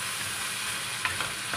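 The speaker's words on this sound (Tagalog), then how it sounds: "Tapos, ihalo ng mabuti." Seasoned chicken breast with curry paste and crushed black pepper being stirred in a pan, with a soft steady sizzle underneath and a few light scraping taps of the utensil near the end, no voices.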